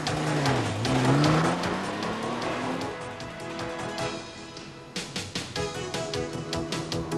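A new Audi 100 typ 4A C4 2.8E with the 6-cylinder V6 accelerates hard, its engine note climbing steadily in pitch and loudness, then dropping at a gear change before pulling again with a strong, close, continuous roar.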